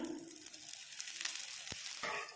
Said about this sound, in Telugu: ఇందులో వేసుకొని ఆయిల్ కానీ లేదా నెయ్యి కానీ వేసి కాల్చుకోవాలి.